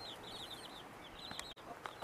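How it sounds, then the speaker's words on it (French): A rooster in a home garden clucks and calls in a short run of rising, wavering notes, fairly close, with a brief gap and then a couple more sharp calls against steady outdoor background noise. "Là c'est mon coq, Rocco Siffredi."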